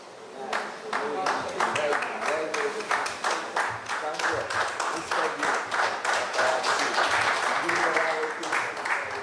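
An audience at an African History Month celebration in San Fernando breaks into sustained clapping and applause, a dense steady patter that carries throughout with voices faintly mixed in.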